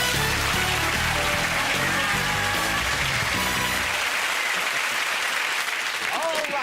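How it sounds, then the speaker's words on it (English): Studio audience applause on a game show, a dense, steady wash of clapping with music playing underneath in the first part, then clapping alone, loud and sustained throughout. "Give them all a round of applause."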